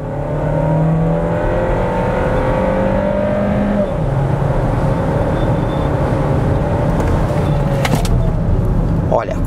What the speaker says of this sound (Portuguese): Então vamos estolar o carro e vamos lá.